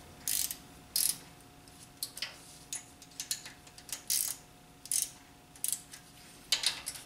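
A ratchet clicks in short repeated bursts while snugging down cylinder head bolts on a 2000 Honda Civic engine, close and fairly quiet with brief pauses between strokes.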